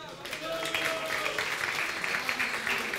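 Studio audience applauding on a Russian talk show as a debate second is introduced, steady dense clapping that swells after a quiet start and holds throughout, with a voice speaking faintly over it.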